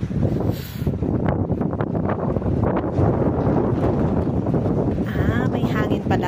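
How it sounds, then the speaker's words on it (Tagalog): Strong typhoon wind after the rain has stopped roars steadily into the microphone, a loud continuous buffeting rumble from start to finish. "Pero ngayon wala na siyang ulan-ulan. Hangin na lang malakas."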